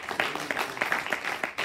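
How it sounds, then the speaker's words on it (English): Scattered hand clapping from a church congregation, irregular and fairly quiet, with a faint murmur of voices underneath. "let's give God a hand clap."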